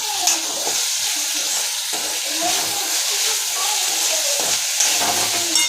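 Masala rice being sautéed on full flame in a pan, a loud continuous sizzle with steady stirring scrapes and faint talk underneath.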